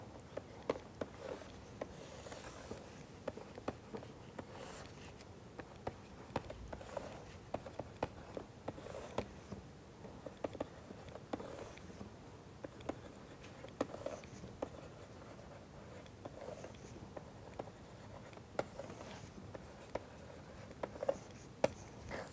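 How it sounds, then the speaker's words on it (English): Pen or chalk scratching as someone writes by hand during a lecture on enclosures and barriers, faint irregular strokes and taps repeating throughout, quiet and close, no talk. "Let us write it here."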